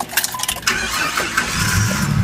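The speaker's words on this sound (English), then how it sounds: "and start your car" A car engine cranks and catches, then settles into a steady idle, heard close up, with a short starter whir at the beginning followed by a continuous low rumble.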